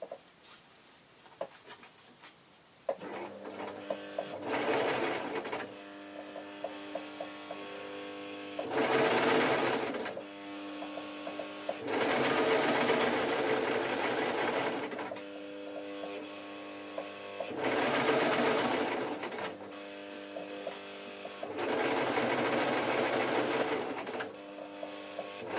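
A sewing machine stitches a seam in taffeta for a baby party dress, running in several steady bursts of a few seconds each with short pauses and a faint motor hum between.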